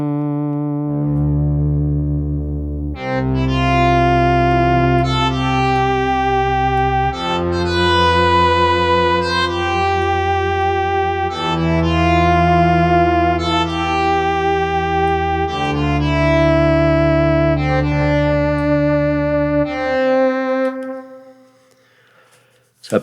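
Massive, overblown synth brass plays sustained chords through a McDSP EC-300 delay plugin. The chords change every few seconds and trail off with echoing repeats before fading near the end.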